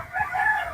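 A rooster crows once, close and loud: a short, drawn-out tonal call on a farm, with a faint cluck at the very end.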